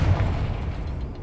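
A Confringo spell blast in Hogwarts Legacy, a short low boom with a rumbling tail, loud and close, no talking.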